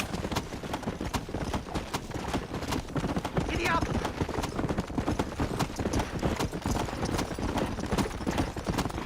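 A horse galloping in the video game Red Dead Redemption: rapid, loud, rhythmic hoofbeats continue throughout, with a brief neigh partway through and a voice over the clatter.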